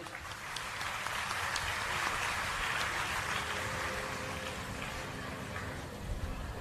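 A large audience gives sustained, dense applause for the team behind the film Lalo. The clapping holds at an even, loud level throughout.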